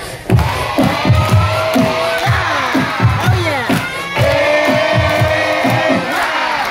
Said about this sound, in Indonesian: Tepuk tangan sambil teriak